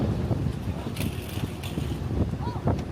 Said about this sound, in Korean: 날씨가 덥지만 바람이 많이 부네요.